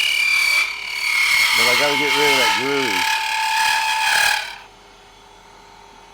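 Brass cannon for a 50 caliber build spinning on a wood lathe, giving a loud, steady high-pitched chattering whine for about four and a half seconds before cutting off abruptly, with someone talking briefly over the middle.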